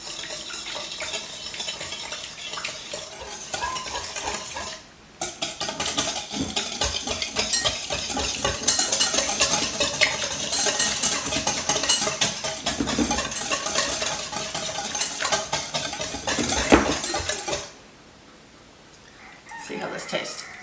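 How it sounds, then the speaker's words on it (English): Ingredients with white sugar whisked together in a bowl, a busy rapid scraping and clinking that runs steadily for most of the stretch, pausing briefly near the start and dropping away near the end. "we're just going to whisk all of this together"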